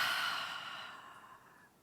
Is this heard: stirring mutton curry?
no